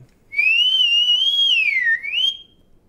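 A person whistles one clear sustained tone that wavers up and down, dips briefly, then rises again, close and fairly loud against a quiet room, lasting about two seconds.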